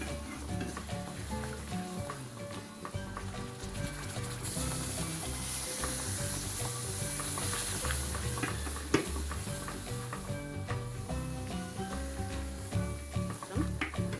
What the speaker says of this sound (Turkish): şerbetimizi yavaş yavaş ekleyerek hızlı hızlı karıştırmaya devam ediyoruz ki topaklanma olmasın